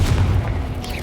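A fire-blasting spell from Hogwarts Legacy bursts into a loud, deep boom that rumbles steadily for about a second, with a low, heavy body and no pause.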